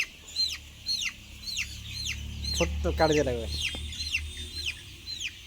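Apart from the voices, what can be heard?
chickens clucking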